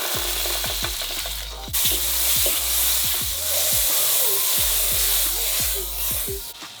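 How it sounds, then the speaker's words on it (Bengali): Butter sizzles in a hot frying pan before a steak goes in, giving a steady, loud frying hiss with repeated low knocks underneath. "ফ্রাই গরম হয়ে গেছে এখন বাটার দেওয়ার পালা"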